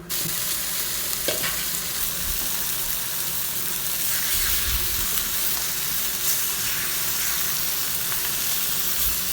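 Masala-coated fish fries in an iron pan, a dense, steady close sizzle and crackle with a few sharper pops, unbroken by speech.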